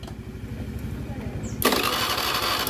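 Motorcycle engine idling with a rhythmic low putter during an ignition test, then the throttle snaps open into a loud, sustained rev, heard up close with people talking.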